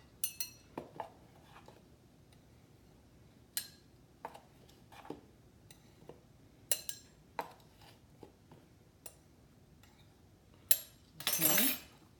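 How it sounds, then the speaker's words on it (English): A measuring spoon scoops baking powder and levels it off in a kitchen during cornbread preparation, giving sparse, light clinks and taps of metal against a container, with a louder clattering burst near the end. "now it has 4 teaspoons of baking powder. I just scoop in there and level it off"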